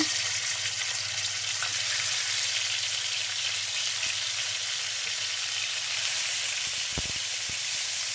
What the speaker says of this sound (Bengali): এখন রান্না করব, ভাজি করে নেব